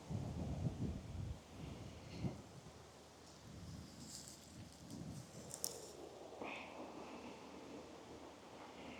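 Strong wind buffets the microphone on a farm, rumbling gusts heaviest at the start, with rustling and scattered knocks throughout and no talking.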